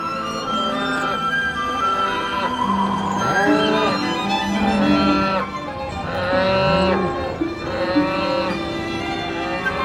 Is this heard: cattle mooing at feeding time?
yes